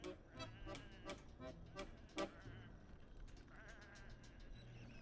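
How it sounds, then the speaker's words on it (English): Sheep bleat in the video game Whateverland, a rapid run of short, bright calls in the first couple of seconds, one louder than the rest, then fading into a steady hiss of game ambience. "Come on, these are just sheep."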